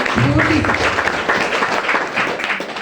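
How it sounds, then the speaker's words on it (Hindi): An audience at a business seminar claps loudly and continuously, a dense, steady round of applause filling the room. "एक बार कमलेश सर के लिए जोरदार ताली हो जाए"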